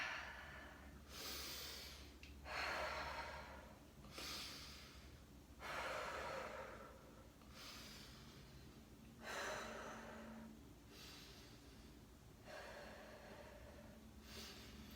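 Heavy, rhythmic breaths during a yoga abdominal workout, several slow inhale-exhale cycles close to the microphone with no talking.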